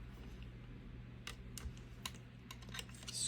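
A blade slices through a soft polymer clay leaf cane in a few short, quiet cuts over a faint steady hum, with small crisp ticks scattered across the moment.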